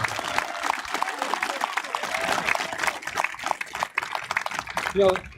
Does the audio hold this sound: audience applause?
yes